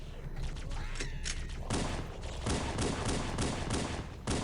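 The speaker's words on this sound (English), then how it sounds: "let's watch this grenade go" Combat in the video game Halo CE with a grenade going off amid a rapid fusillade of gunfire, loud repeated bursts and thuds layered densely together, close and chaotic.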